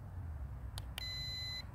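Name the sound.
Holy Stone 720 drone beeping when starting propellers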